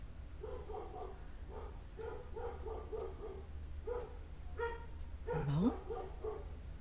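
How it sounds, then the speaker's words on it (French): Dog yapping in the distance, a series of short, faint, high barks in quick bursts over a low steady hum, followed by a brief louder whining yelp near the end. "J'entends le chien japper."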